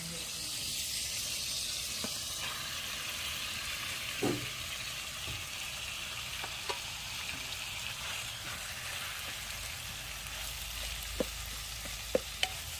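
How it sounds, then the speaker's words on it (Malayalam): Ground spice paste, stone-ground, goes into a simmering dried fish curry with a soft, steady sizzling hiss and a few faint taps and clinks from stirring. "ഇനി നമ്മൾ അരപ്പിടുവാണ് കേട്ടോ"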